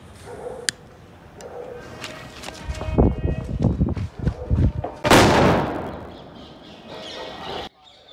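A large sutli bomb, a twine-wrapped Indian firecracker, bursts with a loud, sharp blast after several smaller pops and crackles, the explosion's roar trailing off over a few seconds outdoors during Diwali festivities.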